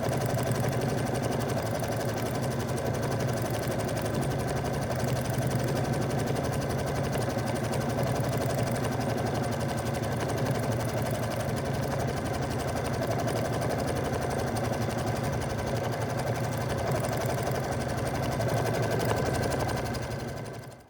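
A Brother Luminaire sewing machine stitching through a quilt block, running in a fast, steady, even whir for about twenty seconds before stopping, close and alone without talk.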